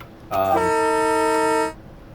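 A single train horn blast from a Metro-North M2/M4 EMU in Train Simulator 2020 sounds for about a second and a half, a steady chord-like tone, muffled as if heard from inside an enclosed cab.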